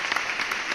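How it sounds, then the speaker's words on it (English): Brief burst of applause, a quick wash of clapping lasting under a second, fairly loud and close. "We deserve this applause."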